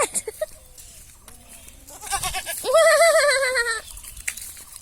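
A village goat gives one loud, wavering bleat close by, preceded by softer rustling and a few faint calls.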